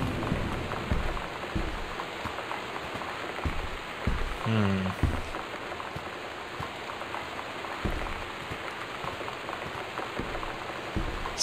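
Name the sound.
storm rain in video game Gone Home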